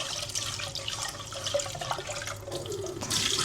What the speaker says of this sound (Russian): Промываем его раза на 2-3, но нужно это делать недолго, чтобы рис не успел в себя впитать много воды.